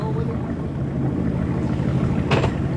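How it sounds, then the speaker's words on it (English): Small sailing boat's engine running during a test sail, a loud steady low drone and rumble throughout, with a short hiss of spray or wind near the end. "It's kind of loud for a little boat."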